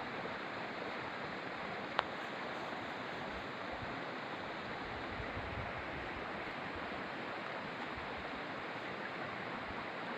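A small waterfall along the Torean trail on Mount Rinjani pours in a steady, broadband roar of rushing water that holds even for the whole stretch, close and fairly loud, with a single brief click near the start.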